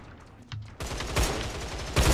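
Rapid automatic gunfire from the video game Line of Sight rattles in a dense, loud burst that continues without pause, with a faint hum beforehand.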